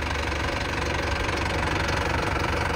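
A New Holland 5500 tractor engine, paired with a paddy thresher, running steadily just after starting, a loud, continuous knocking diesel idle close by with no voices.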